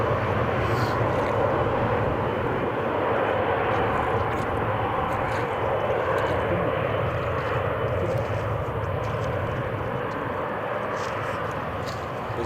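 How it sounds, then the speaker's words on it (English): An Emirates airliner on runway 07 at Newcastle Airport gives off a steady, loud jet engine roar that holds for the whole stretch without letting up. "we should get a nice head-on shot and a line-up shot of the Emirates"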